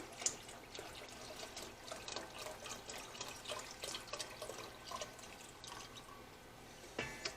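Water poured into a large pot of pasta e fagioli to bring it to about 2½ quarts, a steady trickling and dripping pour with small splashes, fairly quiet and continuous with no talk over it.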